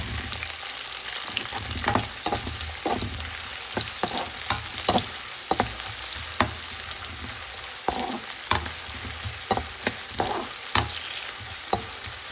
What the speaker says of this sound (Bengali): তারপরে এখানে আছে পেঁয়াজ আর 4-5টা কাঁচামরিচ। এইটা আপনারা বাদামি করে ভেজে নেবেন।